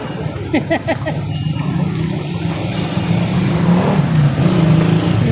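Busy Sunday road traffic with many vehicles, engines revving and passing close by in a dense, continuous roar, with faint voices and chatter underneath early on.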